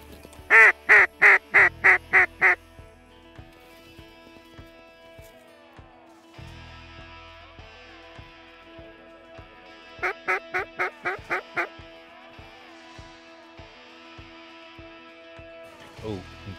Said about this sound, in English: big pile of ducks coming straight out front in the gap